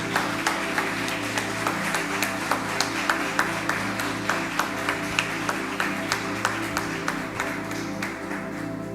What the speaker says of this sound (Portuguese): Dê uma salva de palmas, porque Jesus merece.